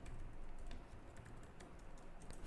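Continuous rapid typing on a computer keyboard while entering code, a dense close stream of small key clicks with brief irregular pauses and no talking.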